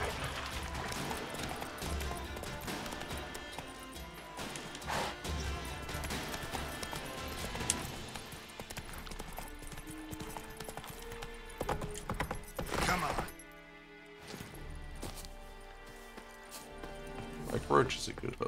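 Roach, Geralt's horse in The Witcher 3, clip-clops steadily along, hoofbeats running under game ambience and music while a player talks over much of it.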